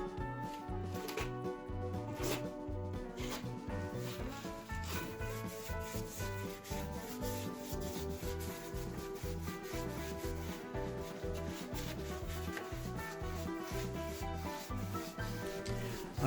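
A brush scrubs and rubs Vactan rust treatment onto a narrowboat's floor in continuous close, rhythmic strokes, fairly quiet and with no talk.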